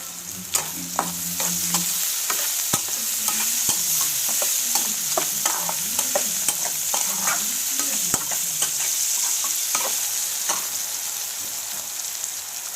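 Onions frying in a pan for a boiled prawn curry, with a steady bright sizzle and repeated scraping clicks of a spatula stirring throughout, close and without talk.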